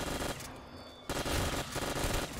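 Rapid automatic gunfire from Call of Duty zombies on the Der Riese map comes in dense loud bursts, broken by a short pause, with no speech.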